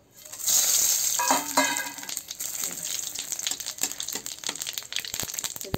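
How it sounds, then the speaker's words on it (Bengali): Bay leaves and whole cumin seeds hit hot oil in a pan with a sudden loud crackle, then a busy sizzle with scattered pops that settles to a steady frying hiss, no voices. "এই যে তেল গরম হয়ে গেছে, এই যে তেজপাতা আর গোটা জিরা দিয়ে দেবো"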